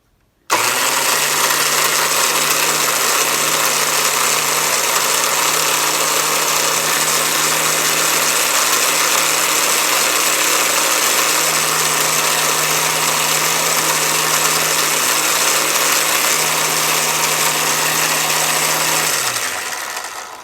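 Drill press running during a 1910 Seth Thomas 89C clock repair: a loud, steady motor hum with a constant whirring tone that holds for about twenty seconds, then winds down as it shuts off.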